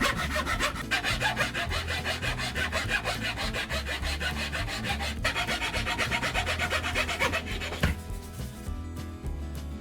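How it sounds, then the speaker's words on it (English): A handsaw cuts flat across the end of a sanded wooden tool handle with steady rapid back-and-forth rasping strokes, close and continuous, pausing briefly near the end, with no talking. "After sanding, cut the end of the handle flat with a handsaw."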